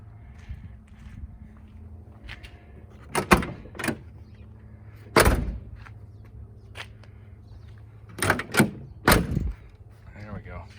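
Door of a 1981 Chevrolet Camaro Z28 fitted with all-new seals, heard as several sharp thuds and latch clicks as it is shut and opened, close by, with quiet handling noise between.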